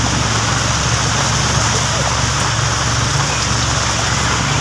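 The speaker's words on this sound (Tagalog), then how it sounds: "lakas ng ulan, lakas ng ulan" Heavy rain pouring down at a street vendor's spot, a loud, dense, unbroken hiss of water that fills the whole stretch without pause.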